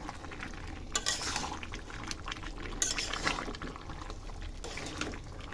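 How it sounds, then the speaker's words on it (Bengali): A spoon stirs a thin Bengali mutton curry with potatoes in a pot, producing soft, intermittent scraping and wet sloshing strokes under a low background hiss, fairly quiet and close. "আবার একটু নেড়ে দিচ্ছি।"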